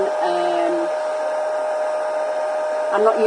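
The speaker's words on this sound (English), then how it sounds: "I want to dry this before I go any further. I'm just using a hairdryer." A hair dryer blows steadily at close range, drying a mixed media card, with a constant whirring hum and a brief shift in tone near the end.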